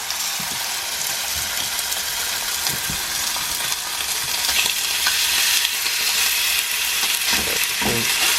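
Thick steaks crusted in crushed peppercorns sizzle and fry steadily in a hot pan, a loud continuous crackle with occasional sharper pops, heard alone without talk.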